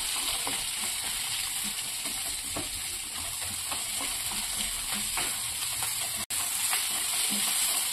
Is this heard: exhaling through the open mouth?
no